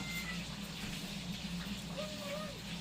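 A cat meows during an indoor family birthday seafood meal, a short faint wavering call near the end of the clip, partly under background room noise and voices.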